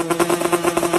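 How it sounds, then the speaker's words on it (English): Brief burst of a dirt bike engine running with a fast, even pulsing putter, close and steady with no talk. "And last, dirt bike sound."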